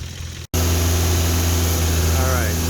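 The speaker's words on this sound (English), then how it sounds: "as you can hear, the RPMs have already gone back down" A 2016 Hyundai Veloster DCT turbo engine idles close by after its revs fall back, a steady low droning hum following a brief cutout, with a voice heard speaking over it.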